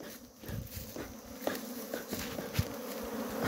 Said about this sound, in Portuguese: Muita abelha aqui, ó.